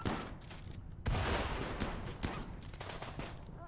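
Gunfire in RimWorld, a rapid scattered exchange of shots with one heavier blast, moderately quiet against a busy game background, no voices.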